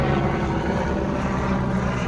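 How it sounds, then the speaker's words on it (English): A helicopter passes overhead outdoors, a steady low rotor rumble that stays fairly even and continuous throughout, with no talk over it. "Oh, there's a helicopter going by."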